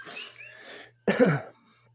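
A single harsh, chesty cough during a detox sounds up close after a faint breathy exhale, followed by quiet.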